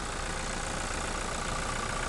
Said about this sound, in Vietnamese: động cơ đây động cơ nổ rất là êm